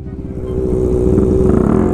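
A motorcycle engine revs close by, a loud throaty growl that climbs steadily in pitch and holds at a high pulsing drone through the two seconds, with no voices over it.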